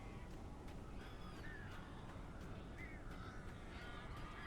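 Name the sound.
crows cawing in video game Alan Wake Remastered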